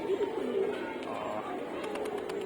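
Pigeons from a sky pigeon loft, returning from flight in the afternoon, with soft cooing and wing flutters close by over a steady outdoor background.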